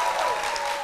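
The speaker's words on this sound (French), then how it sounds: "merci surtout de vous applaudir encore et encore" A television talk show studio audience applauds, a brief burst of steady, close clapping from the crowd.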